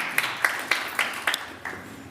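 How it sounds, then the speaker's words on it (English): Applause at a circular fashion pitch event welcoming a Vinted member, six sparse separate claps at a steady, slow rhythm in a room, fairly faint. "Give applause to him."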